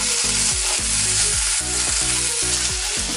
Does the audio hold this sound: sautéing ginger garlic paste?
yes